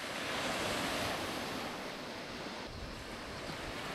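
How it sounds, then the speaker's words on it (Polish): Ocean waves breaking on a beach on Lord Howe Island, Australia: a loud, continuous wash of surf with wind buffeting the microphone, no voices. "I naokoło tylko ocean."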